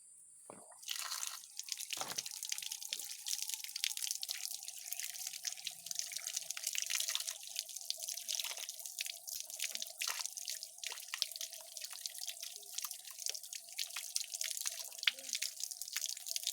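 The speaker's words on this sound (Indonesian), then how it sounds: "supaya lebih bersih kita cuci di air mengalir ya" Caladium tubers are rinsed under running tap water, a steady stream splashing and dripping with scattered handling noises and brief knocks, fairly close and alone without talk.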